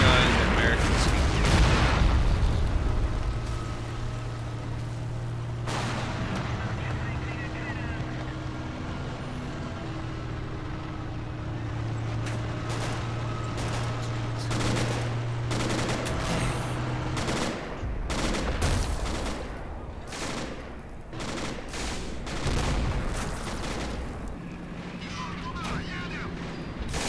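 Gunfire in the war game Men of War Assault Squad 2, a 3v3 match, pops in scattered shots and rapid bursts with low engine rumble, growing denser toward the end, while someone talks throughout.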